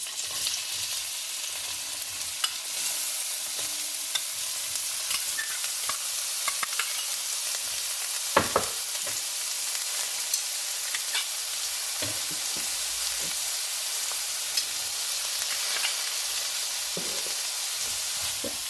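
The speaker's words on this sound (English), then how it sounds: "I'm just going to let the onions and peppers fry here for a bit" Onions and peppers sizzle and crackle steadily in a hot pan, with occasional stirring clinks and pops, close by and without talk.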